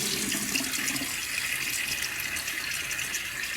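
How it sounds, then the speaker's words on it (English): Tap water runs steadily into a bathroom sink, a continuous close splashing hiss with no pauses, as a face is wetted before a wet shave. "Let me get my face wet."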